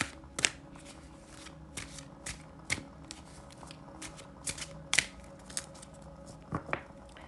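Tarot cards shuffled by hand in short riffling bursts at irregular intervals, close and fairly quiet against a soft background hum.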